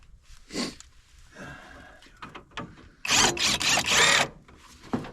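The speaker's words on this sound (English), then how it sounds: "the cheapest impact available with two adapters to go from 1/2 inch all the way down to 1/4 inch" A cheap impact wrench fitted with adapters stepping down from 1/2 inch to 1/4 inch, used on car work, fires in a close, loud cluster of rattling hammering bursts after a few quieter scrapes and knocks.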